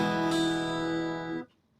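A strummed chord on a Yamaha Keith Urban acoustic guitar rings out clearly and sustains for over a second before being cut off, leaving near silence.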